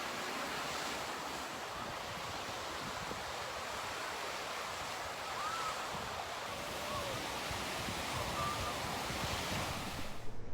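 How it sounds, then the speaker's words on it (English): Continuous surf washes steadily onto a Lake Michigan beach at South Haven, a broad, even roar of breaking waves mixed with wind buffeting the microphone, with no speech. "So enjoy the sights and sounds of the beautiful beach."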